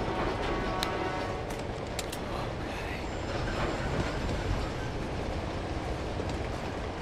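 A moving train in the Uncharted 2 video game rumbles steadily with a dense, continuous roar and faint rattling clicks throughout, loud and unbroken with no talking.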